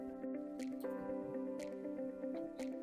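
Water is poured into a homemade cattle tick-killer spray mixture, giving faint wet squishes and drips over a steady low hum.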